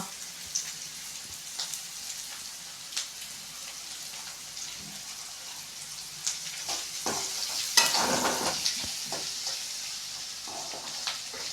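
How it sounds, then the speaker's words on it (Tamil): Onions sautéing in a pan for rava kichadi, a soft continuous sizzle with scattered stirring scrapes that grow louder and busier toward the end. "ஸோ ஆனியன் வதங்கிறதுக்கு கொஞ்சம் டைம் ஆகும், ஒரு 2-3 மினிட்ஸ் ஆகும்."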